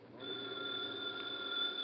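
Telephone ringing at night in a radio drama, a steady electric bell tone sustained without a break, close and clear with no voices.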